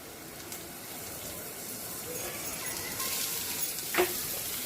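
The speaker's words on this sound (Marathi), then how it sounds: "आता यातच आपण भिजवलेले मटकी आणि वाटाणे स्वच्छ धुवून घेतलेले होते ते घालणार आहोत।" Soaked moth beans and peas sizzle in hot tempering in a pan for misal. They hiss steadily and faintly, with a few soft scrapes of stirring and no voices.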